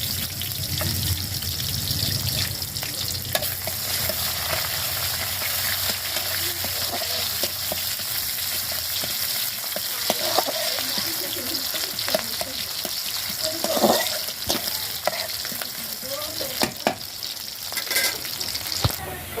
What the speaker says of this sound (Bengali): তারপর আমি পেঁয়াজ রসুন এর ভিতরে দিয়ে দেব।